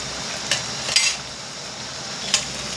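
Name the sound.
ginger frying in oil for chicken curry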